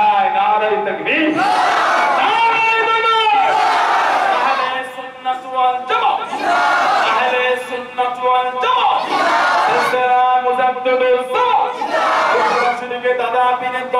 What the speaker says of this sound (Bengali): পূর্ব নীলাম্বারপুর এলাকার ছেলেদের গলার আওয়াজ এটা